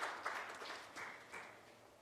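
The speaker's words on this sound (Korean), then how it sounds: "큰 박수 부탁드리겠습니다." Faint audience applause at a Jeju policy forum panel session, scattered claps swelling in a few soft bursts over a quiet room, fading within two seconds.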